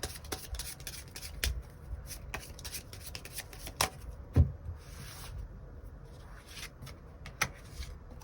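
Tarot cards are shuffled close by, giving quiet, steady rustling with soft slaps and taps as the deck is worked before extra cards are drawn.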